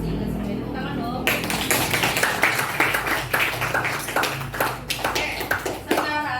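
In a classroom lesson, students clap in a short burst of scattered, fairly close hand claps, overlapping with voices and talk.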